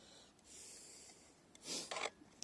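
A nut and bolt are loosened on a seat frame, giving a few short rasping, scraping bursts of tool against metal, close and fairly quiet, with a brief rough stretch near the end and no talking.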